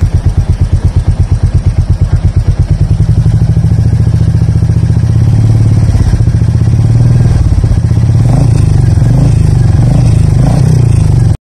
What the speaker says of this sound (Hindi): तो चलिए बढ़ते हैं नेक्स्ट साइलेंसर की तरफ, जो कि है शार्क साइलेंसर, एंड साउंड सुना देता हूँ आपको सबसे पहले।